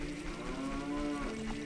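A cow moos in Ocarina of Time, a long, steady, tonal low call that holds for over a second at moderate volume without any talk.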